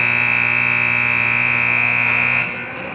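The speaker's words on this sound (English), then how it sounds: "Lang has it, but the buzzer goes." A loud, steady electronic horn blares at an ice hockey arena to close the second period of a semifinal against Langley, holding constant for over two seconds before cutting off and leaving crowd murmur.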